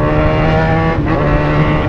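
A Yamaha XJ6 motorcycle with a loud exhaust gives a steady, close, heavy engine drone, continuous and dense for the full two seconds with no talking.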